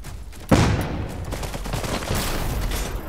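A Gatling gun mech in Iron Harvest opens fire with a sudden burst, then keeps up a loud continuous rattling stream of rapid shots for a few seconds.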